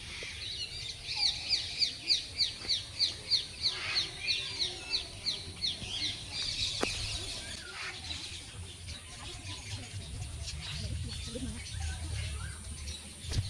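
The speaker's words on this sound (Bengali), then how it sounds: "এখানে এলে এত রকমের পাখি তোমরা দেখতে পাবে।" Birds in a large city park with a tiger and crocodile enclosure give a quick, rhythmic run of bright chirps early on. Softer calls and steady outdoor ambience follow.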